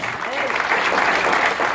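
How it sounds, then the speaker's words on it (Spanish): A congregation at a night vigil service claps for the Lord, a short, even burst of crowd applause mixed with a voice speaking over it. "Denle un aplauso al Señor"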